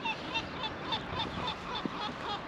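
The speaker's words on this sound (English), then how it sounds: "Menacing" Gulls call over and over in a steady series of short cries by the Mediterranean Sea, heard against constant stormy wind and outdoor noise.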